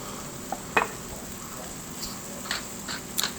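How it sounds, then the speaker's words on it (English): Curry powder and spices toast in a pan for githeri, with a low steady sizzle and a few brief scraping clicks from stirring, and no voices. "So I toast my spices, get them flavorful, fragrant."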